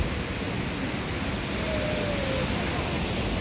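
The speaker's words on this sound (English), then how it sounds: "So there are two waterfalls just at the on Mount Renzori." A waterfall on Mount Rwenzori in Uganda, at Nyombi Thembo Waterfalls, gives off a dense, unbroken roar of rushing water that stays steady and loud from start to end.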